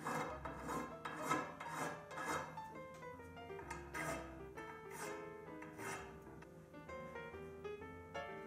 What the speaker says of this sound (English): Be sure to clean up any burrs on the lead screw and thread lead-ins.